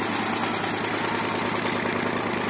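Moto Guzzi 850 T3 motorcycle from 1976 idling steadily, a dense continuous mechanical rumble with an even throb, close and moderately loud throughout.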